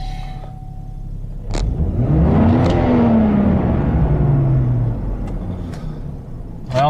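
A GMC Envoy engine cranks during a failed start attempt, a loud rumbling whir that rises and holds for several seconds then fades without catching, close up and with no talking.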